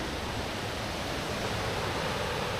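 Elk River Falls in North Carolina pours steadily in a dense, unbroken roar of rushing water, close and loud throughout with no voices.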